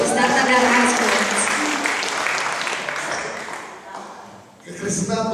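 Church congregation at an Indonesian Christian fellowship service breaking into applause, a dense broadband wash of clapping mixed with voices, loud and sustained, dipping briefly before swelling again at the end.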